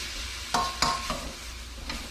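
Seasoned dried shredded squid stirred in a pan over a soft sizzle, with three or four quick scraping strokes from a utensil, close and fairly quiet, no voice.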